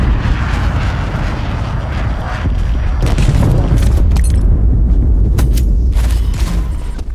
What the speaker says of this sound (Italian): Missile cruise in arrivo.